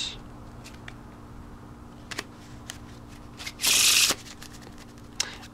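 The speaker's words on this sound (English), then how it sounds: "Give it a couple of Pharaoh shuffles." Playing cards given a few faro shuffles while mixing a deck for a round of poker; a sharp, dense riffling burst stands out against quiet surroundings, framed by faint scattered card taps and handling sounds.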